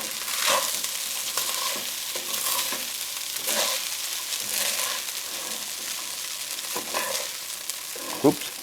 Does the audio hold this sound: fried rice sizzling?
yes